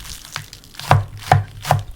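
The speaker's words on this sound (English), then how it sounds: "We're chopping off the ends that are kind of wrinkly." Knife chopping the wrinkly ends off a green onion for a Korean-inspired stew, heard as three crisp, close blade strikes against a cutting board at a steady pace after a softer first cut, with no talking.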